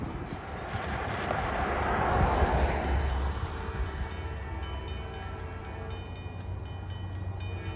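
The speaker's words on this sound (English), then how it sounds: "shooting the Amtrak Ethan Allen Express" An Amtrak Ethan Allen Express passenger train rolls past with a steady, loud rumble that swells and then holds, and a horn sounds during the pass.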